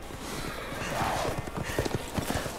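Horse hooves clatter in a rapid, uneven clip-clop with a brief whinny amid the commotion of the survival horror game Resident Evil Village, loud and close.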